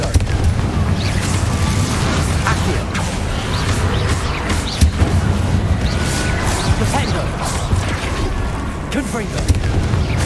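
A Confringo blasting spell erupts amid a fight with Inferi in Hogwarts Legacy, loud booms and crashing debris over a busy, rumbling game soundscape, with a player speaking over it.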